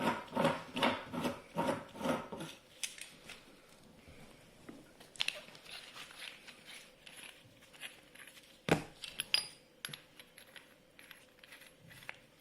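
Steel plumbing pipe sections being unscrewed from a steampunk table with light oak: rhythmic scraping and creaking turns close up at first, then scattered clicks and metallic knocks in a quiet room.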